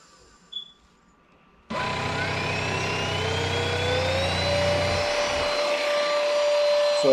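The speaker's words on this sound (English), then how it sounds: "You do got a button here that you can increase the suction with." A Zyxrona cordless vacuum cleaner switches on after a brief quiet moment and runs with a steady, loud whining motor hum, its pitch shifting slightly as it keeps going.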